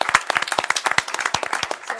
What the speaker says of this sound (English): Let's give them a round of applause before that.